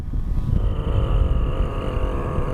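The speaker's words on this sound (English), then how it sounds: "The first thing I'm going to show you is what a rich engine sounds like and how it behaves." A nitro-powered RC car engine running rich. It gives a steady, close, loud buzzing drone for the whole stretch, with no pause and no talk.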